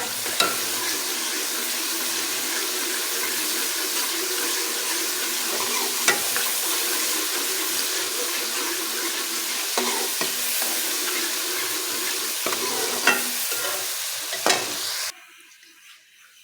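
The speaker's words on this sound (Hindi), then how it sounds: "इसके बस हमने देसी घी का तड़का लगाना है। ये लाइट ब्राउन हो जाएगा" Garlic frying in a desi ghee tadka for sarson ka saag sizzles steadily up close while a spoon stirs and scrapes the pan, then the sizzle drops away near the end.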